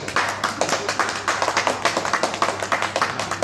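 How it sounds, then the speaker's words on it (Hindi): A group at a party night claps together in a steady, brisk rhythm of sharp slaps close by, with almost no talking. "सब मिलकर एक हाथ ताली मार दो कम से कम"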